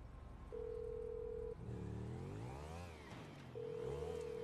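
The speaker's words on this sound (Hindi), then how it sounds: "अपना फ़ोन निकालते हैं यार हम पहले, इसको कॉल कर लेते हैं।" A mobile phone dials in the video game GTA V, with a steady ringback tone pulsing between pauses while a car engine revs and whines in the background.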